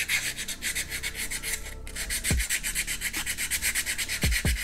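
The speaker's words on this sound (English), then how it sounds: "And we're going to start sanding." Steady rhythmic rubbing and rasping of wet sandpaper on a diecast model car, back-and-forth strokes up close, with a few soft knocks.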